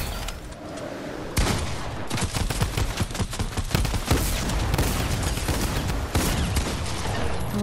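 Rapid video game gunfire crackles almost nonstop, loud and close, with dense bursts of shots and booms layered over each other for the whole stretch.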